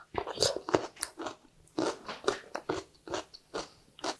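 Loud, close crunching of crisp radish from quick water kimchi being bitten and chewed, a rapid series of sharp crackly bites with brief pauses between them.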